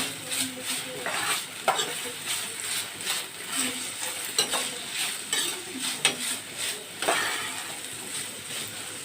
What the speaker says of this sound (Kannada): ಹಸಿಮೆಣಸಿನ್ಕಾಯಿನ ಹಾಕೊತಾ ಇದ್ದೀನಿ ಸ್ವಲ್ಪ ಕೊತ್ತಂಬರಿ ಸೊಪ್ಪನ್ನು ಹಾಕೊಳ್ಳಿ ಹಾಕಿ ಚೆನ್ನಾಗಿ ಬಾಡಿಸ್ಕೊಳ್ಳಿ